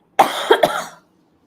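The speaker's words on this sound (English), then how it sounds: "I have some cough problem." A short burst of coughing, three quick harsh coughs in a row, close and fairly loud, then silence.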